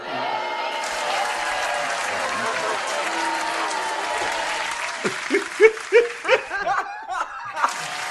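An audience claps for several seconds, broad and sustained, then the clapping gives way to scattered laughter and chuckles as a speaker's voice returns.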